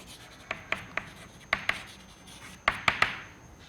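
Writing on a board during a university lecture on vectors, heard as a run of crisp taps and short scratches in irregular clusters, fairly close, with no voice over it.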